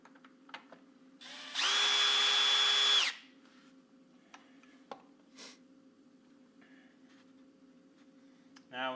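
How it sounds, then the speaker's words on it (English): Power drill driving a screw into a shop drawer front: one loud steady whine lasting about a second and a half, with quiet workshop handling noises and light clicks before and after. "I had my drill set to hammer."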